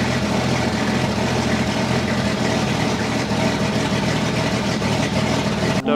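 A 1950s-style International 1200A pickup truck engine idles steadily and smoothly, a close, continuous low rumble with an even rhythm and no talk.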